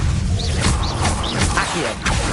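A spell effect in the Hogwarts Legacy video game, the Expelliarmus disarming spell, sounds as a dense, loud burst of magical whooshes and crackling impacts. It is layered over a steady game soundscape, with no talk.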